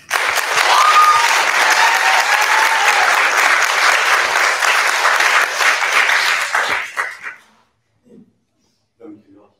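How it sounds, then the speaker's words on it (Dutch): A crowd claps loudly at a literary zine presentation after a writer is introduced, dense applause for about seven seconds that then tapers off abruptly into near silence with a few faint stray sounds. "Mag ik een heel groot applaus"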